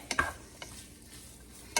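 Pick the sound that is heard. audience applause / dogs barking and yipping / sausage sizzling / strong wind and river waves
sausage sizzling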